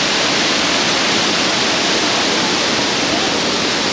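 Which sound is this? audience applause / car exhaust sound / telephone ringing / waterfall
waterfall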